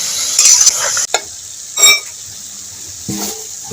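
Grated coconut stirred and cooked in a pan for coconut laddu, a spatula scraping in short bursts over a soft sizzle, with brief clatters between strokes.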